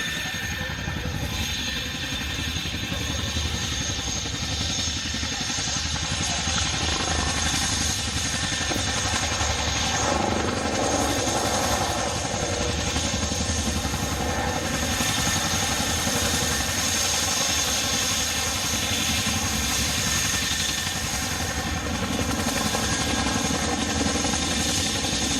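A Royal Navy Wildcat helicopter at the Cosford Air Show gives a steady, close engine whine and turbine hum with layered tonal drones, sustained evenly throughout with no talk.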